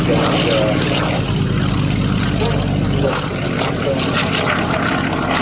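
An exotic propeller warplane flying a display at the Duxford Flying Legends airshow, its piston engine giving a loud, steady, rough drone that holds throughout at close range, with crowd noise and scattered talk underneath.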